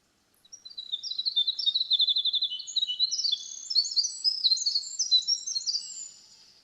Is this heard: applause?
no